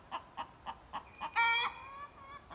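A few soft clucks in a steady rhythm, then a louder drawn-out rooster call with a bright harmonic tone, fairly close and alone.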